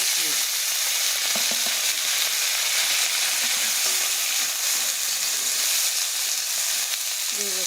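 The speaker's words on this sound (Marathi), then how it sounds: "त्याच्यानंतर आपण ह्याच्यामध्ये घेवड्याच्या शेंगा टाकूया।" Ghevda bean pods are added to masala frying over low heat, giving a loud, steady, close sizzle that holds through the whole stretch, with faint scrapes of stirring and no talking.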